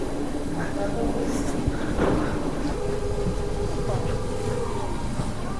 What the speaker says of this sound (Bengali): এই ট্রেনটা ধরতে হবে আমাদের